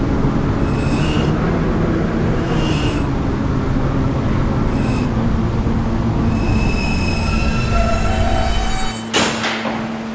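A B subway train rolls between stations, a steady loud rumble of wheels on track with repeated bursts of high wheel squeal, then a sharp clatter near the end as the car shifts.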